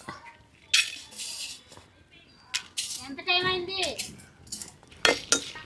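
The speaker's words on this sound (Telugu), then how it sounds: "ఇప్పుడు మనం ఎండుమిరపకాయలు వేసేసుకుందాం." Dry red chillies dropped into a heated kadai for tamarind roti pachadi, with metallic clinks and scrapes of utensils against the pan and a voice talking between them.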